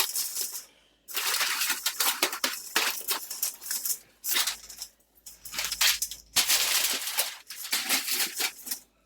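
Aluminum foil is peeled and crinkled off a baked lasagna fresh from the oven, loud crackling bursts coming in several bunches with short quiet gaps between them, close by and with no talking.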